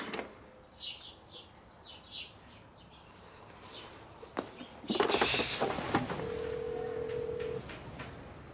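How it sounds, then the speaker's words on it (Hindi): Phone call being placed: faint tones and soft clicks give way to a steady ringback tone that repeats, with some background rustle and chirps outdoors, no speech. "बेल बज रही है।"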